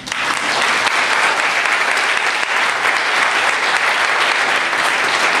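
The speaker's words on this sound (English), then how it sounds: "All right, y'all clap." A church congregation claps steadily and loudly together, a dense, continuous wash of applause with no pauses.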